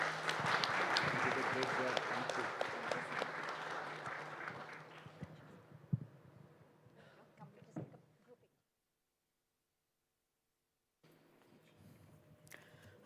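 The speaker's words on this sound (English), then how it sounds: "A big round of applause," An audience applauds a sustainability panel at the India Sustainability Mission 2.0 event: dense, steady clapping for several seconds that thins out and fades, followed by a brief silence and then faint room noise.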